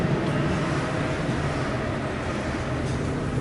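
A train stands at a downtown St. Louis station beside a parking garage, heard as a steady, loud mechanical rumble and broad hiss with no distinct events and no talking.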